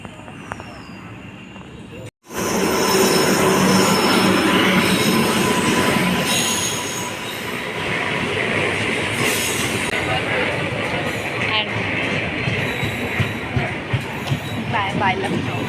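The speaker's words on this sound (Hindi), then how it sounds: "ट्रेन आ रही है" A train pulls into a station, arriving with a loud rush and the screeching squeal of wheels on rails, then a steady rolling rumble with clicking wheels as it slows alongside the platform; a voice speaks faintly underneath.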